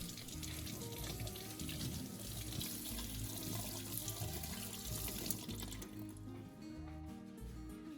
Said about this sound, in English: rinse it under running water to remove dirt from the surface